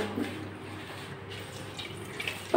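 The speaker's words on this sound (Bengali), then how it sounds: "পাতাগুলো আমি জল দিয়ে ভালো করে 3-4বার করে ধুয়ে নেবো" Running water splashing and trickling steadily in a sink while bitter gourd leaves are rinsed, close and fairly quiet, with small drips and splashes on top.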